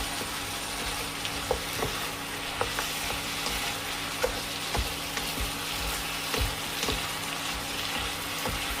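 Chicken and spices, including pepper powder and green chillies, are stirred together in a sizzling pan, with a steady frying hiss and irregular scraping and clinking taps of a spoon against the pan.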